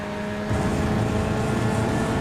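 A loud GT3 race car engine in iRacing, a steady close drone that steps up in loudness about half a second in and holds, with no talking.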